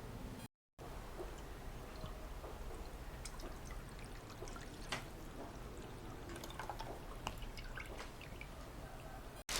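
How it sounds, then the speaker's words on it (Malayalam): A steady trickle of egg and milk custard mixture being poured into a caramel-lined bowl, with faint drips and splashes over a continuous low background, running without pause. "ഇനി എഗ്ഗ് മിൽക്ക് മിക്സർ നേരത്തെ നമ്മൾ ഒഴിച്ചു വെച്ച കാരാമലിലേക്ക് ഒഴിക്കുക"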